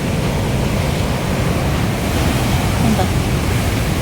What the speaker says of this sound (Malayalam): ആ കടൽ ഇങ്ങനെ ഇളകി കിടക്കുന്നത് ഈ തെറിക്കും ഈ വീണ് എല്ലാം പതഞ്ഞു കിടക്കുന്നൊക്കെ